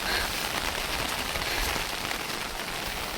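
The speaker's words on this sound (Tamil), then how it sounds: "இப்போ ஒரு மாதமாக மழை பெய்ய ஸ்டார்ட் பண்ணிடுச்சா" Rain falls steadily in a forest, a dense, even hiss of drops pattering on surfaces, constant and fairly loud with no voices.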